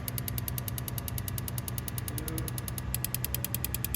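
A Nissan 240SX S13 engine cranks and fires unevenly during injector testing, with steady rapid knocking pulses and a dense low rumble throughout, loud and close, with no talk.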